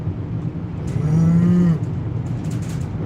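A single cow moos once, steady and fairly clear, over the constant rumble of a vehicle driving along a quiet, smooth country road.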